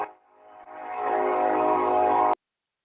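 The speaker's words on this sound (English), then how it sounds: "Here comes the train." A train rumbles past during an online press call after a baseball game, its horn sounding a long, loud steady blast that swells and holds for about two seconds before cutting off abruptly.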